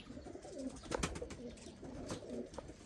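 A jungle-type pigeon coos softly a few times, low and faint, over a steady background hiss.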